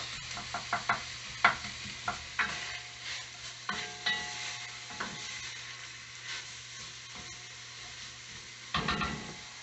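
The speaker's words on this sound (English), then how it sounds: "we'll sit here and saute a little bit so that they're nice and get the onions kind of translucent" Onions sautéing in a pan for beef bourguignon, with a soft continuous sizzle under a series of sharp stirring clicks and knocks of a utensil against the pan, no talking.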